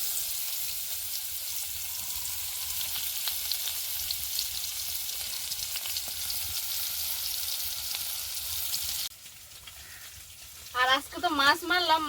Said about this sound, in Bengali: মাছ ভাজার কড়াইতে এবার আমি একটু দিয়ে দেবো পেঁয়াজ আর রসুন